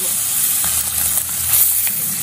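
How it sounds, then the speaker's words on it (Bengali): Bele fish fry in mustard oil in a karai, giving a steady, close hiss and sizzle throughout, with faint crackles and no talking. "বাকি মাছ দুটো একইভাবে ভেজে নেব।"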